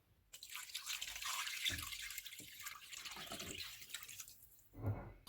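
Water pours into a cooking pot (handi) holding chicken, garlic and ginger, a soft, quiet splashing stream that runs for several seconds with no talk over it.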